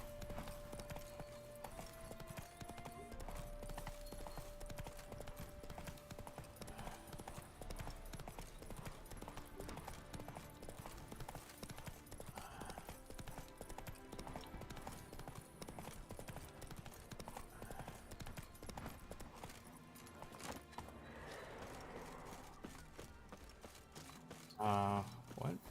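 Horse hooves clip-clop at a run in The Witcher 3, the rhythmic beats sitting under game music and sound effects at a moderate level, with a short burst of noise near the end.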